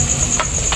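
Shrimp frying in a pan with oyster mushrooms for adobo, a steady close sizzle with a couple of brief bursts of stirring, no voices.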